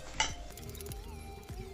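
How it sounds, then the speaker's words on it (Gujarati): Spoon clinking and scraping against a bowl while salt, oil and spices are mixed in a home kitchen for a snack recipe, a sharp clink near the start followed by softer repeated scraping strokes. "હવે બધું મિક્સ કરી લેવાનું"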